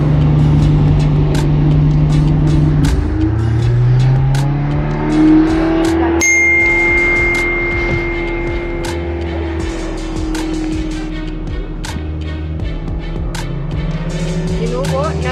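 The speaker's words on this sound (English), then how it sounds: "Susan, put the car off" A car engine running in a desert in Iran, its drone shifting pitch up and down as it revs and settles, loud and continuous, with a sharp change partway through and people talking over it.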